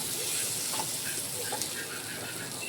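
Paneer and tehari ingredients fry in a pan as a soft, steady hiss of sizzling oil with a few faint clicks and scrapes, quiet and continuous throughout.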